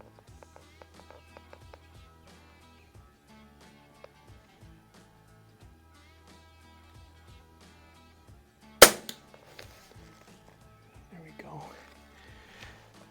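Walther LGR air rifle with peep sights fired outdoors at a 25-yard target in light wind, one sharp loud crack standing out amid quieter ticks and background noise, with speech nearby.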